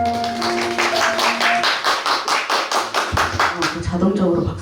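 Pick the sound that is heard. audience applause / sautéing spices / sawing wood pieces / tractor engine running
audience applause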